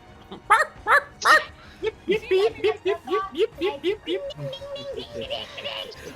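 A person's voice imitates a fox's bark in a quick run of short, evenly spaced yips, close and fairly loud, trailing off at the end.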